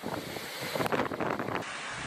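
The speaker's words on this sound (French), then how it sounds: "les rafales de vent frôlent les 200 km/h" Hurricane Maria wind gusts in Guadeloupe near Pointe-à-Pitre, a loud, rushing roar of wind buffeting the microphone that swells into a stronger gust midway, then eases.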